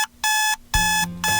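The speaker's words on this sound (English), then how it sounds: "Alarm on Sunday." Alarm clock ringing in the Doki Doki Literature Club visual novel mod Longer Roads: three loud, bright electronic ring bursts, each about a third of a second, separated by short gaps, with nobody talking.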